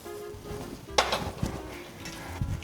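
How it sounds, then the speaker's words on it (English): Roasted cashew nuts stirred into rava kesari with pineapple in a pan, giving a few soft scraping and clinking spoon strokes against the metal, close and fairly quiet. "and give it a stir"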